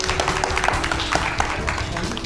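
Applause from an audience at a cultural programme held alongside a cyber-security and honours ceremony, a dense, steady patter of clapping that runs evenly through the whole stretch, with a faint voice mixed in.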